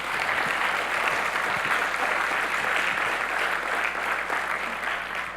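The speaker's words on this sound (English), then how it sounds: "So let's give a huge round of applause for our innovators." An audience at the SAMCEDA 2018 business event applauds innovators, a dense, steady wash of clapping from many hands that holds at full strength throughout, with no voices over it.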